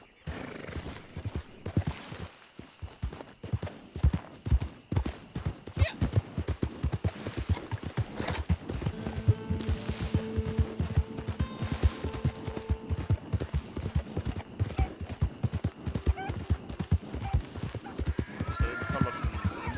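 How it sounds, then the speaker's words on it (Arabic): Horse hooves clip-clop in the Red Dead Online video game, a loud, steady walking rhythm of close hoofbeats with occasional neighs and whinnies, alongside game sounds and someone speaking intermittently. "يعطونا هذا الحصان التعبان"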